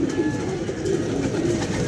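Several kept pigeons coo in soft, repeated low throaty rolls, close and steady, over a constant background hiss on a rainy day.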